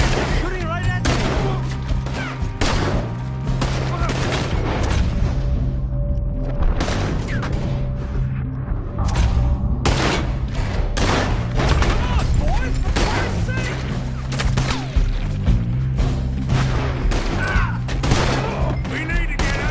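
Dense video game gunfire and booming blasts run continuously throughout, with heavy low rumble under talk.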